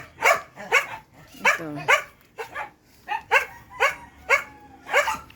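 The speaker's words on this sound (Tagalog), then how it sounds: "Maingay ang mga aso kong alaga." Several pet dogs bark outdoors in a loose, uneven series of about nine sharp barks at close to medium range, with a person saying a single brief word between them.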